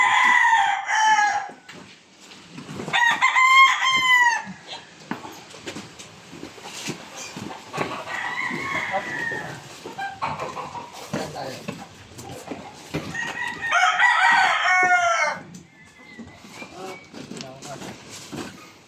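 A rooster crows loudly several times, nearby, with people talking between the calls and other chickens clucking in the background.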